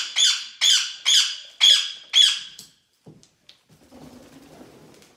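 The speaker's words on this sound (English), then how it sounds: "He's just flying around, squawking his head off." A pet grey bird gives five loud, close squawks in quick succession, then a few faint knocks and rustles as it flies around.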